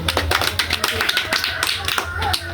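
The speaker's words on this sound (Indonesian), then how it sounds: "tepuk tangan dulu" A small health-education class claps briefly, with a sparse, uneven run of individual hand claps over a low hum, close and fairly light.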